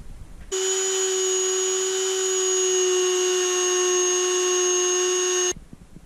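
Power tool spins a screw-mounted piece of fine sandpaper against a carburetor intake neck, a steady, close, high-pitched electric whine holding for about five seconds before cutting off abruptly.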